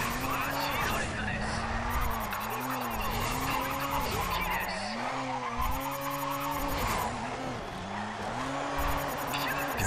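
Tires squeal and skid continuously as a car drifts through corners in the racing game Race Driver GRID, the engine note rising and falling with each slide, loud and sustained, with someone talking over it.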